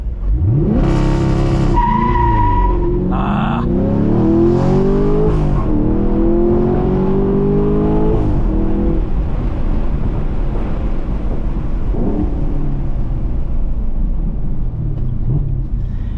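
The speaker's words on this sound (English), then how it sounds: "we were not able to get the more optimal launch, but this is something that I can definitely tell did not have as much spinning as those 245 tires" A Chevrolet Camaro LT1 launches hard from a standstill, with a sharp rev, a shriek of spinning tires and a loud engine climbing through the gears before settling into a steady rumble.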